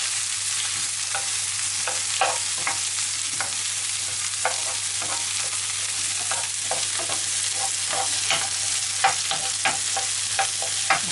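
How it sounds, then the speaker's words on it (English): Onions and garlic fry in a pan beside lamb chops for honey mint lamb chops, a steady bright sizzle with intermittent scraping stirs throughout. "Just fry off the onions and the garlic a little bit and then push your lamb"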